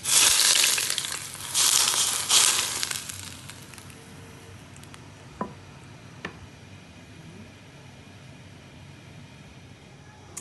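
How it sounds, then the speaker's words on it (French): Hot sunflower oil poured over fish, giving loud bursts of crackling sizzle at the start that fade to a quieter hiss with a few faint clicks. "je vais verser de l'huile chaude, hein, c'est de l'huile de tournesol"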